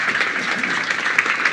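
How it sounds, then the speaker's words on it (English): An audience applauds panel speakers at a Waze Cities of Tomorrow summit, a short burst of dense, steady clapping close by, without any voices over it. "Let's give everyone a quick round of applause."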